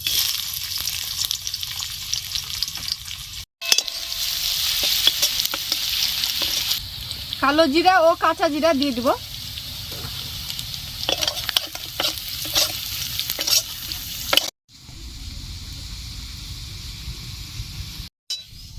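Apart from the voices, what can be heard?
onion and green chilies frying in oil in a wok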